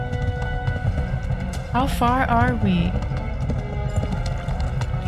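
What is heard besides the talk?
horse galloping in video game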